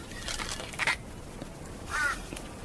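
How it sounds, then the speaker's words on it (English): Crows cawing over coastal scrub on the Victoria coast, two harsh, separate caws about a second apart at moderate distance against a quiet background. "Crows seem to like it."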